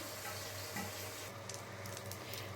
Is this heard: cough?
no